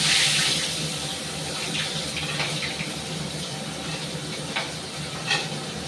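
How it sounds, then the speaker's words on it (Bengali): A fish head rubbed with salt and turmeric goes into hot oil, setting off a loud, close, spattering sizzle that rushes at the start and then settles into a steady crackle with occasional pops; no one talks. "তেলটাও আমার গরম হয়ে গেছে, তা দিয়ে দিচ্ছি।"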